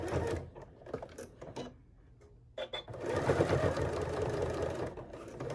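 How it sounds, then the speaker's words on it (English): A sewing machine back stitches a fabric luggage tag. Short, stop-start bursts of whirring give way to a steadier, moderately quiet run near the microphone, with no speech. "I'm going to back stitch a little bit here."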